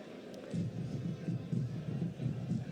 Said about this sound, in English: There'll be plenty of noise. We've got a large crowd